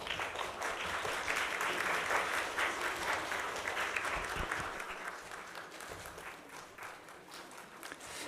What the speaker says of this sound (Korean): 다시 한번 박수로 축하해 주셨으면 좋겠습니다